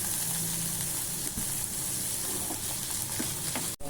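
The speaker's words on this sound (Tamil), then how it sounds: "எண்ணெய் விட்டுருக்கேன். ஃபஸ்ட்டு கோஸை போடுறேன். கோஸோட இஞ்சியும் போடுறேன். வதக்கிக்கிறேன்." Shredded cabbage and ginger sautéing in hot oil in a pan, a steady close sizzle and crackle throughout with faint stirring scrapes, no talking.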